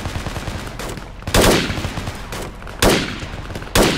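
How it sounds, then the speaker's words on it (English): Gunfire in the military shooter Project Reality, a steady crackle of rapid shots with three loud, close bursts standing out, heard alone without talk. "Shots from northeast."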